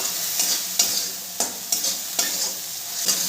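Spice paste with ginger and garlic fries in ghee for egg korma, giving a bright, continuous sizzle punctuated by regular sharp clacks of a spatula scraping and stirring the pan, close up.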